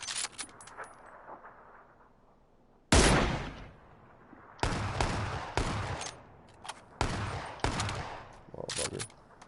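Gunfire in a PUBG match with 7.62 rifle ammunition: several sharp, loud shots and short bursts spread across the clip, echoing between quieter stretches of faint ambient noise.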